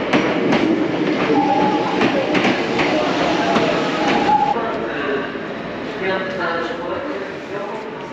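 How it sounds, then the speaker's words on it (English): A Hakone Tozan mountain train runs toward Gora, giving a steady rumble with rhythmic clicking of wheels on track, heard from inside the train. Passengers talk quietly underneath throughout. "This train will take me up to Gora, which is about 2/3 of the way up the mountain."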